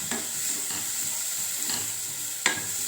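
Onions and vegetables fry with curry leaves in a pan: a steady bright sizzle runs throughout, broken by a few scraping stirs, with no voices.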